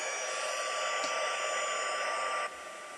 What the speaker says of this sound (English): and then you take your heat gun